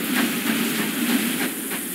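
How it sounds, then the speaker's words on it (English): A train rolls past in a Wild West video game, a loud continuous rumbling wash with faint rhythmic clacks and hissing, steady and close. "Ooh, train!"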